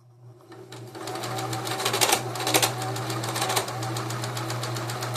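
A New Home SS-2015 sewing machine runs while improperly threaded, starting up and settling into a loud, rapid, steady clatter with some irregular knocking over its continuous motor hum.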